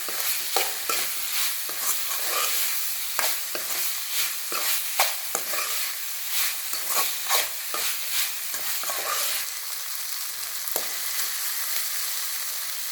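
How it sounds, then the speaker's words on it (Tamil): Cauliflower fry crackles in a pan while a spoon scrapes and stirs it, making frequent irregular scraping strokes over a steady close sizzle, with no talking. "அதே ஒரு நல்லா கிண்டிக்கணும்"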